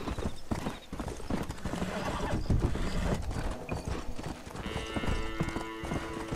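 Horse hooves clip-clopping at a steady gallop in Red Dead Redemption, a brisk rhythmic beat over an ambient bed, with a brief whinny-like tone near the end.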